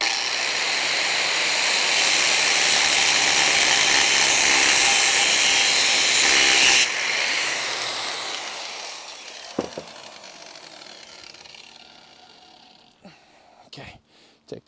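A cutoff wheel cuts through the steel rear body of a Charger crew cab conversion, a loud continuous grinding whine that runs steadily for several seconds, then stops and leaves sparse clanks and knocks of metal at close range.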